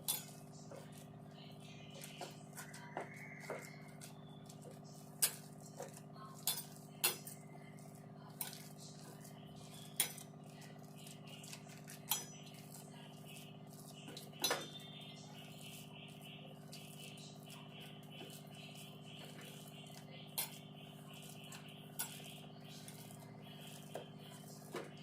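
Spoon stirring a bread sweet with ghee in a pan, sparse faint clinks and scrapes at irregular intervals over a quiet background with a low steady hum.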